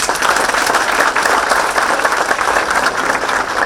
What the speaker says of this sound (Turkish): belediye başkanımıza sizlerden güçlü bir alkış rica ediyorum